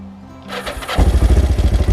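A Kawasaki Ninja 500 GPZ500S motorcycle turns over with a short starter whir, then catches and settles into a loud, close, pulsing idle.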